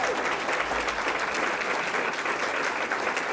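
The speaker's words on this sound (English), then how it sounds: "let's give them a round of applause for the work they do" Attendees at a regional chamber of commerce event applaud lunch staff, a thick, continuous roar of clapping hands that stays level for the whole stretch.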